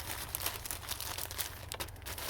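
A plastic bag crinkles and rustles in short, close bursts as it is wrapped several times around an outdoor hose bibb, with no voices.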